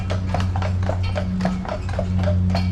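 Carriage horses pull a carriage on a ride through Stanley Park in Vancouver. Their hooves clip-clop in a steady, even rhythm close by over a low rolling rumble of wheels, with no talk.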